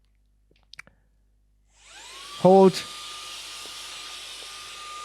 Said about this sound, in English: I can just grab this vacuum cleaner